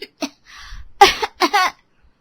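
A woman fakes a cough to get attention, producing a few short, breathy cough-like bursts spaced apart, ending in a clustered pair of louder hacks.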